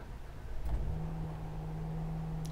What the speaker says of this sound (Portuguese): Para dar a partida, basta pisar no freio, pressionar o start-stop